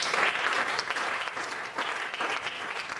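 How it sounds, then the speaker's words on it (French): A church congregation applauding for the Lord during a Sunday service, dense sustained clapping from a crowd that swells and holds for several seconds. "Est-ce que tu peux acclamer pour le Seigneur?"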